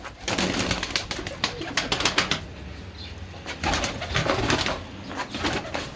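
Pigeons coo steadily in a close, busy chorus inside a coop, with brief flutters of wings breaking through the continuous low throaty cooing.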